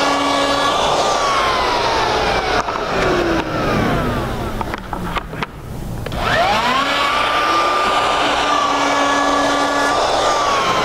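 A router fitted with a 3/8 inch rabbeting bit cuts a rabbet along a wooden edge for sunburst rays: a loud, steady high whine with pitch dipping under load midway, then rising back up to full speed.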